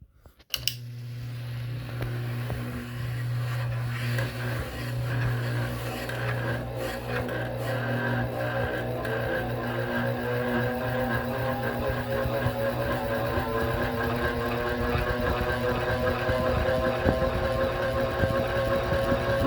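A rare gear-driven ceiling fan starts up from rest, its motor hum and meshing gears rising steadily in pitch as it speeds up, with a constant low drone and faint rubbing rasp running throughout, close and alone.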